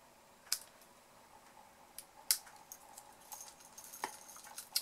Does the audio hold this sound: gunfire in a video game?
no